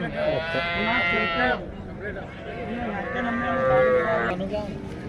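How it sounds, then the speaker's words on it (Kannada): A cow moos twice, long and drawn out, close by, at the Sindhanur cattle market, with faint background noise between the calls. "ಇಲ್ಲೊಂದು ಹಸು ಇದೆ ನೋಡ್ರಿ"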